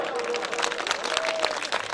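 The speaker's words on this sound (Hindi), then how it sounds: "ताली बजाओ जोर से।" A crowd at a live Mithila community event claps, a dense patter of many hands heard close, with voices and cheering mixed in.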